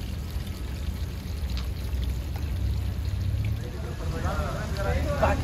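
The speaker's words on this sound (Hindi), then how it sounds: "यहाँ पर आप वाटरफॉल देख सकते हैं कि देखिए वाटरफॉल गिर रहा है।" Water from a waterfall in a turtle and koi pond splashes and pours in a constant, moderately close rush, with a low rumble underneath and faint bird-like chirps near the end.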